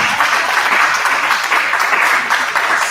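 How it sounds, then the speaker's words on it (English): An audience gives the mayor a round of applause at a public gathering, loud, dense clapping that carries steadily and evenly the whole way through. "Give the mayor a round of applause."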